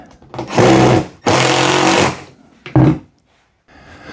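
Three bursts of a cordless power driver run wood screws into the legs of a Harbor Freight Franklin 16 by 30 inch cart, two long whirring pulls and one short one, close and loud.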